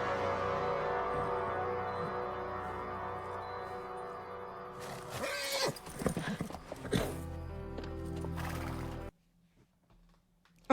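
Horse hooves clip-clopping with whinnying in a scene from the TV show Smallville, a busy burst of hoofbeats and neighs over a musical score, ending in near silence.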